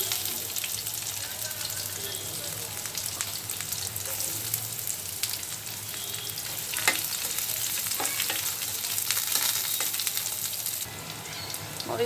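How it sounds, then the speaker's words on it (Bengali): Onion and garlic frying in hot oil with chilies for a jackfruit curry, a steady close crackling sizzle throughout with occasional stirring clicks, no talk. "এখন দিয়ে দিব পেঁয়াজ রসুন।"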